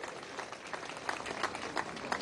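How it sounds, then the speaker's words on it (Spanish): Audience applause at a Venezuelan Bolivarian National Militia Day ceremony, a steady crowd clapping throughout with a few louder bursts, fairly dense and even in level. "merece un gran aplauso el mayor general Morantes Torres"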